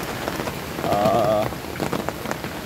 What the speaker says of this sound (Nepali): पानी ठुल्ठुलै थोपा झरिरहेको छ।